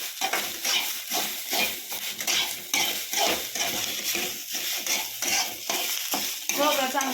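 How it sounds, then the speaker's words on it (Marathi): Coconut, ginger and garlic roast with onion in a pan for a village-style chicken rassa, a close continuous sizzle broken by repeated scraping stirs of a utensil against the pan. "आता त्यामध्ये ना आपण खोबरं टाकू आणि चांगलं भाजून घेऊ."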